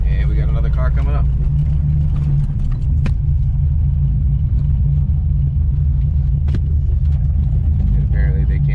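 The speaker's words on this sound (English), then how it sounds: "I'm literally off-roading the car right now." A cammed Corvette rumbles with a deep, loud, steady engine drone while being driven off-road, the low rumble continuing throughout as a person talks over it.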